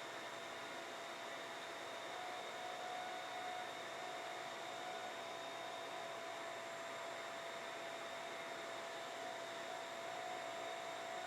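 Shop vac running through dust collection lines, a loud steady whooshing roar with a constant high whine, unbroken from start to finish with no other sounds.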